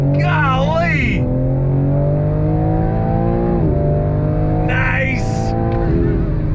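A 2022 BMW M4 Competition with its twin-turbo straight-six accelerates on throttle, a loud, steady engine drone with rising and falling pitch, as voices talk and exclaim over it.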